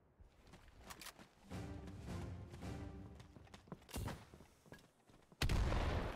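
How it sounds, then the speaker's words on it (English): A grenade bursts in a Battalion 1944 competitive match on the Liberation map, a sudden loud broadband blast near the end, following scattered footsteps, shots and sharp clicks throughout. "A grenade lands, doesn't hit"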